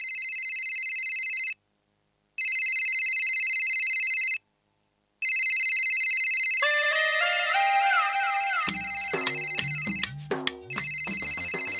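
A telephone rings with a bright electronic tone in bursts separated by short pauses, then a jumble of other chiming melodic tones layers over it near the end.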